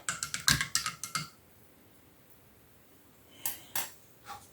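Orchid treatment preparation mixed in a container: a quick run of light clicks and taps from the stirring, then a pause, then a few scattered knocks, close and fairly quiet.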